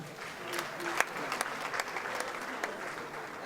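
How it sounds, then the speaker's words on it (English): Brief, uneven clapping from a small audience at a comedy performance, a few sharp claps over a thin spatter, fairly quiet and lasting a few seconds with some voices mixed in. "I'm going to clap for Two-Face"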